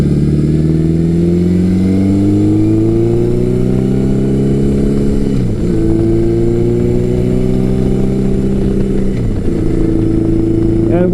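A Yamaha XJ1100 Maxim sport touring motorcycle engine pulls hard and loud from up close, its rising whine climbing steadily, dipping twice at gear changes and then climbing again over a constant road roar.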